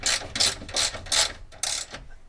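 A ratchet wrench tightening a bolt on a bicycle, heard as four bursts of rapid clicking with short pauses between them, close and fairly loud, with no talk.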